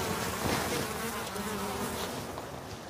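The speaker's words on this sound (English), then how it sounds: "because it's painted yellow, it attracts wasps" Steady insect buzzing fills the clip, a continuous drone like wasps hovering close by, with no voices.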